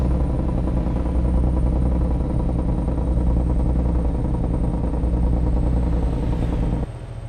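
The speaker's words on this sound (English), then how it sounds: "let's do some Jake brake action while we're at it." A Scania 730S truck fitted with a V8 engine uses its Jake brake in Euro Truck Simulator 2. The loud, rapid, rattling engine-brake drone holds steady, then drops off suddenly near the end.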